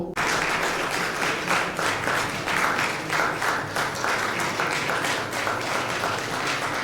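Sustained audience applause fills a New Year get-together, dense steady clapping from many hands that holds at an even loudness from start to finish, with no one speaking over it.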